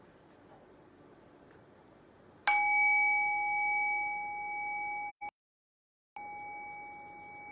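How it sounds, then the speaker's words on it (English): A meditation bell is struck once, giving a clear metallic ring with bright overtones that slowly fades. It breaks off briefly into silence, then the sustained tone returns, quiet and alone. "Rest your awareness on the sound of the bell."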